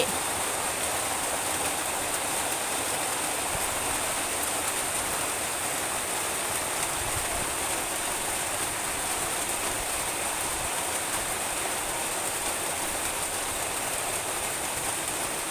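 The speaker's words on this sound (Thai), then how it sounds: "เสียงฝนกับ หลังคาที่เป็นสังกะสีจะดังจะดัง" Heavy rain drums steadily on a corrugated metal roof, a dense unbroken hiss and patter with no pauses.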